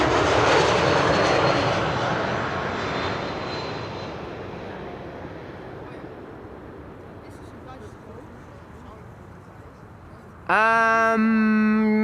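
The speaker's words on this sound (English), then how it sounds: "Air France Bombardier C-Series 300 in the meantime landing here." An Air France Bombardier C-Series 300 lands at Schiphol, its engine roar loud at first and then fading into a broad rumbling wash. A sharp tonal electronic sound cuts in near the end.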